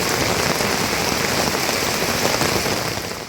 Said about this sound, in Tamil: குருநாள் வழிபாடுலடா இந்த மந்திரத்தை படித்ததோட சரியான மழைடா